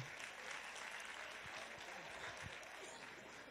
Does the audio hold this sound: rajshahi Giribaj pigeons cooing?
no